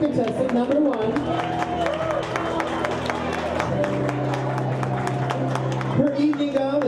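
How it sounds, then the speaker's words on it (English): A pageant audience claps steadily in rhythm for a contestant. The clapping is continuous and sits under music and a murmur of voices. "Clap your hands for contestant number one."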